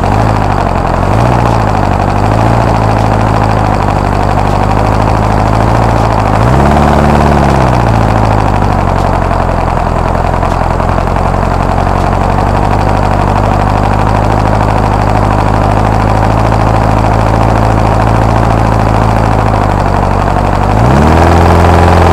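A small hobby engine fitted with a 9x4 paddle supercharger runs loud and close, droning steadily near idle. It briefly rises in pitch twice, once early on and again near the end.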